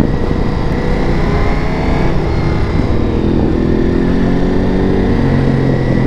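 Ducati V4 big bike engine droning steadily and loud throughout, a continuous rumble with faint rising harmonics as the throttle opens during a road test ride, no voices.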